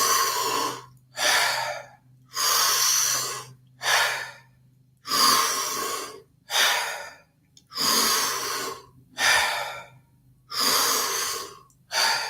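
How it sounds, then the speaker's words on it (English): Rhythmic deep breaths from a Wim Hof breathing session, strong inhales and exhales repeating roughly every second, loud and close with short pauses between. "Now keep breathing just like that."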